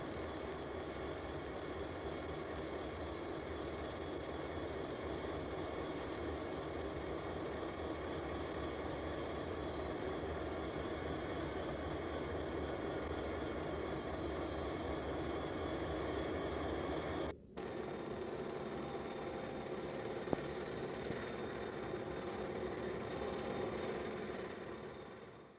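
Old B&O diesel locomotives, including blue C&O units and an L&N unit, haul a train up a steep mountain grade near Terra Alta. They give a faint, distant, steady engine drone that holds throughout, with one brief dip partway.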